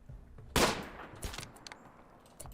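Colonists firing guns in the video game RimWorld: one sharp, loud shot followed by a second weaker report and scattered faint pops, quiet in between, with no talking.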